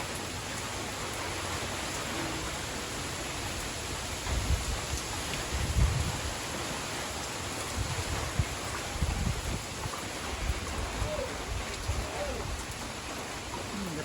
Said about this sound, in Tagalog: ang ulan ay hindi pa ganun kalakas